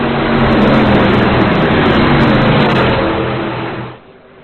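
Race cars rolling past on a Daytona parade lap, a loud continuous engine roar that fades away after about four seconds.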